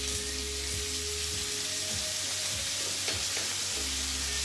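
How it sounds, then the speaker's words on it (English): Sliced calamari and olives hit a hot pan for a seabass puttanesca, bursting into a loud, steady sizzle with a constant frying hiss and a few soft clatters of pieces landing, close up and without talk. "Now I'm gonna dump some calamaras. So this is sliced calamari olives."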